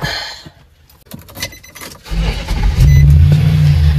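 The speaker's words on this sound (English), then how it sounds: "I'm going to grab my keys and turn it on here for a minute" Keys jangle briefly, then a Nissan NV 3500 van's engine, a 2021 SL model, cranks and catches, settling into a loud, steady low idle rumble close by.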